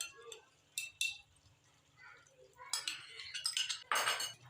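A spoon clinks against a pot while yogurt is mixed into a biryani masala with potatoes, scattered metallic taps and scrapes at close range, with quiet pauses between.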